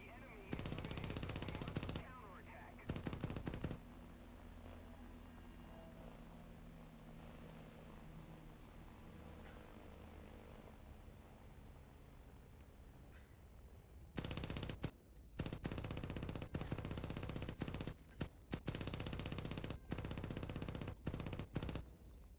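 Aircraft machine guns in War Thunder at a low battle rating: loud bursts of rapid fire at the start and in a long run near the end, with a steady propeller engine drone in between.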